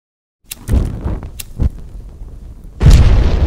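A fireball effect ends in an explosion sound effect: deep booming bursts with a rumbling tail, several heavy hits and then a loud final blast, up close and with no talking.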